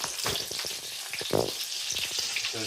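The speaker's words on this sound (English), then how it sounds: "So you want to be very careful when you're cooking these banana balls." Breaded banana balls fry in hot oil, giving a steady close sizzle and crackle with bubbling bursts throughout, and no talking.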